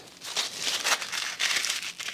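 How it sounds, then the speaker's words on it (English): Crepe paper is stretched and crinkled by hand while making a tiger piñata, giving a close, continuous dry rustling and crackling in short waves, with no speech. "I like to stretch a little bit my crepe paper."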